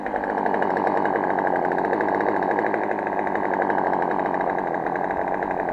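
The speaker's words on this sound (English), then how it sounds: "Okay guys, chainsaw, the Poland 262 Pro. Gonna bring it out over there and try cutting down some dang trees." A Poland 262 Pro chainsaw runs steadily at close range, its buzzing engine holding an even, loud drone throughout with no talk.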